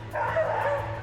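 A single short, close dog bark with a yippy, whining edge, heard at a canine cross-country display at Crufts.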